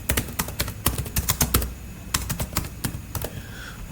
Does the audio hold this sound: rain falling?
no